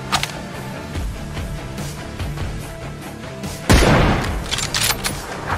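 Gunfire from an M24 sniper rifle in the video game PUBG, several sharp shots over a busy background, with one loud booming blast near the end.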